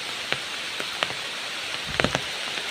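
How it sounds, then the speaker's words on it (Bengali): Heavy rain pours down steadily in Bogura, a dense even wash with a few sharper drop hits standing out near the end, no voices. "দেখেন বৃষ্টি হইতেছে কি পরিমাণ বৃষ্টি হইতেছে"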